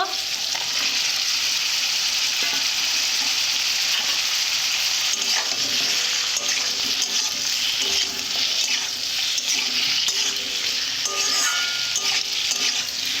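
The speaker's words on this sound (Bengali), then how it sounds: "এভাবে ভালো করে কষে নেবে পাঁচ মিনিটের জন্য" Banana stem curry with potatoes sautéing in a pan gives a steady, close sizzle and fry, with occasional stirring scrapes and clinks throughout and no talk.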